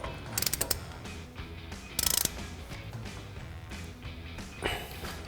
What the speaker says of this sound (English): grab your 1 1/4 inch socket on a ratchet and go ahead and tighten this